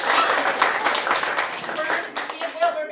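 A crowd claps and cheers in a burst of applause, with voices mixed in, fairly close and lively.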